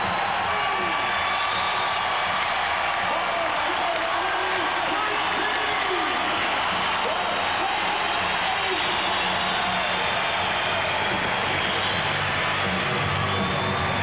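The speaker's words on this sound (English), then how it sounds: "As the clock runs down here at the Spectrum, we'll let you hear the crowd's reaction." A packed arena crowd at a 1993 indoor lacrosse game at the Spectrum in Philadelphia roars continuously as the clock runs out on a home win, a steady wash of cheering and applause heard from a distance.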